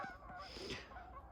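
Honking, goose-like calls come from a flock of birds in flight amid falling snow, with a couple of drawn-out cries that blend together, moderately near and without speech.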